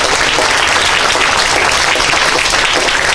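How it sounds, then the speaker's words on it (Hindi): Crowd applause at a public gathering in Bihar, dense continuous clapping from many hands at full volume, sustained without pause. "ताली बजाइए इनके लिए थोड़ा सा।"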